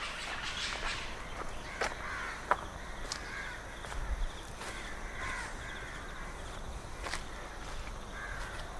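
Crows cawing in short, scattered calls in a forest against a steady outdoor hiss, some near and some farther off, with no talking.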